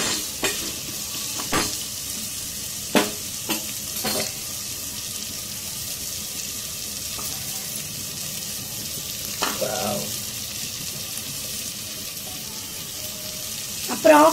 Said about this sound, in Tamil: பச்சை மிளகாவும் கொஞ்சம் போட்டுக்கிட்டு நல்லா வதக்கிக்கலாம்.